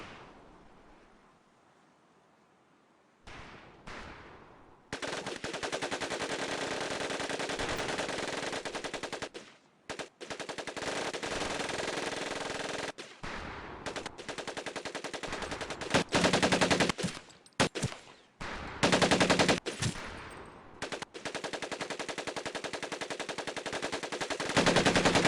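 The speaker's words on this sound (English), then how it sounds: "Take your time to aim and fire the weapon in short bursts only." Machine gun fire in Medal of Honor: Pacific Assault boot camp, loud rapid automatic bursts of varying length separated by brief gaps, after a quiet start, continuing nearly to the end.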